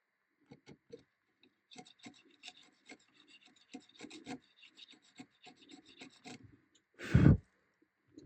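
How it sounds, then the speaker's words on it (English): A mortise chisel cuts into wood while shaping the headstock of a cigar box stick dulcimer, a run of small sharp taps and scrapes, close and fairly quiet, ending in one louder knock. "This is the mortise chisel."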